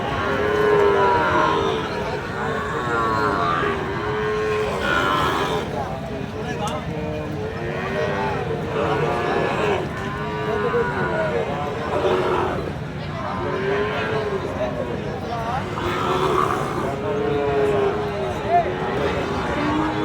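A Sahiwal calf at a cattle market moos repeatedly in drawn-out calls, loud and close, while people talk over the steady background noise.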